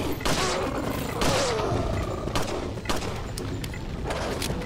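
Rapid volleys of gunfire from the video game Resident Evil 4 HD, a string of loud repeated shots with thumping impacts in quick succession, filling the whole moment.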